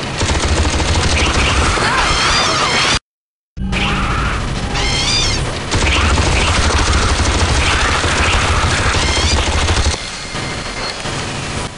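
Rapid, loud automatic gunfire in AVP2: Primal Hunt as a player shoots at swarming aliens, dense bursts nearly continuous across the stretch with a brief cut near three seconds and creature shrieks mixed in.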